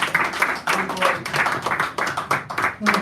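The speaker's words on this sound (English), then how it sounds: "Give Julian a round of applause, ladies and gentlemen." Audience at a cafe poetry reading applauding a performer, with bursts of lively, close clapping that swell and dip in waves and a brief voice near the end.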